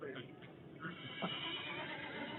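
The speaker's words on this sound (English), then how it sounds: "Hey, I heard a wild horse." A wild horse neighs in a muffled, band-limited whinny that rises briefly and blends with a voice talking underneath.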